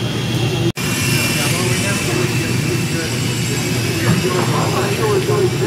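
Model airplanes fly at an indoor meet, giving a steady buzzing engine drone over a hall full of crowd murmur, with voices talking in the background.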